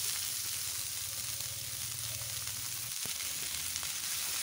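Cabbage and other vegetables fry in a pan for veg chowmein, giving a steady, even sizzle with a brief clatter of stirring partway through.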